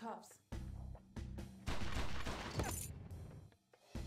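Bursts of gunfire from the video game XIII, loud and close, crackling in rapid volleys that run almost without pause, dipping briefly near the end.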